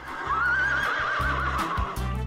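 A pony neighs in the online game Brookhaven on Roblox, one loud close whinny with a quavering rise and fall, over a low rumbling background and a few soft thumps.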